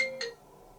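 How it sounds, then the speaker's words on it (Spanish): A mobile phone ringtone going off briefly during a Spanish-language church sermon, a short melodic electronic chime that quickly cuts off, moderately loud in a quiet room. "se me olvidó apagar mi teléfono"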